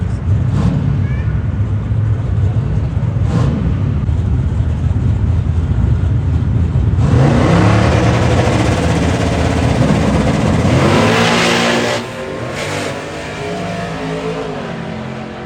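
A black pickup truck accelerates hard down the raceway at a truck fest, its engine building from a steady rumble into a loud, roaring surge midway, then dropping off near the end.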